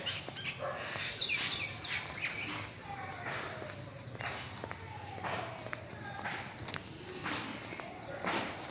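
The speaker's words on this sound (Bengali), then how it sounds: "এই পাখিগুলো" Several birds chirp and call in short, scattered tweets among trees at a temple, faint and moderately distant over a quiet outdoor background with occasional soft footsteps.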